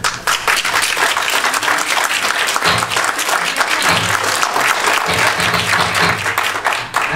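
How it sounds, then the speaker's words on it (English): An audience at a public comment meeting on a road cut-through applauds in a dense, sustained wash of many hands clapping, loud and continuous throughout with no talk over it. "we cannot tolerate applause during our conversations together"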